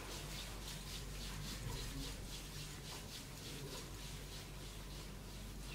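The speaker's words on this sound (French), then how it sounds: "on frotte jusqu'à ce que les mains sont sèches" Two hands rub briskly together until dry, making a faint, rhythmic swishing friction with a steady back-and-forth pulse against a quiet indoor background.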